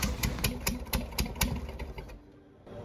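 An MGB engine with a turbo runs rough while smoking, chugging in an uneven, knocking rhythm of heavy pulses before the beat fades out near the end; close and fairly quiet, with no talking.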